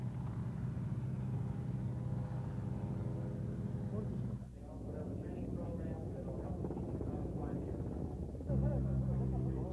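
A small jet helicopter flying at the Oshkosh airshow, a steady loud turbine whine and rotor rumble that holds throughout, dipping briefly midway, with a commentator talking over it.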